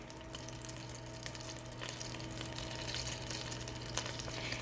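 Peeled, deveined shrimp fry in melted butter in a pan over raised heat, a steady close sizzle with scattered sharp splatter pops running throughout, no voices.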